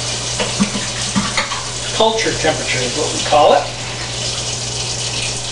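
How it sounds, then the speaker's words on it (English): Warm tap water runs into a kitchen sink with a steady rushing hiss. A person talks over it, and a low electrical hum sits underneath. "we're going to fill up our sink with fairly warm water"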